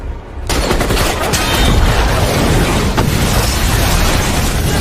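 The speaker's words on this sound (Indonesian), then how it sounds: "Di saat-saat tersebutlah Brandon menembak tangki bahan bakar yang mengakibatkan meledak dan membuat para pemberontak kocar-kacir." A fuel tank explodes in a loud, sustained blast that roars continuously, with dense crackling like rapid gunfire mixed into the rumble, close and overwhelming throughout.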